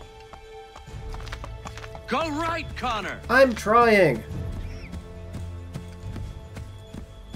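Rhythmic clip-clop of galloping hooves in the video game Assassin's Creed 3 runs throughout, with a loud horse whinny in the middle while people call out to each other.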